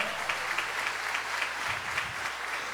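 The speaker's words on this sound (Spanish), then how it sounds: "Démosle un fuerte aplauso al Señor." A church congregation applauds during a sermon, a steady wash of many hands clapping at a moderate distance with no voices over it.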